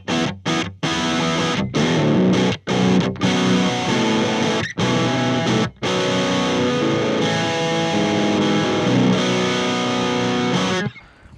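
Electric guitar played through a Kyro Audio Dulo preamp pedal with the gain set high, giving a saturated, distorted lead tone; a few short choppy stabs open into sustained notes and bends that ring on for several seconds, loud and alone.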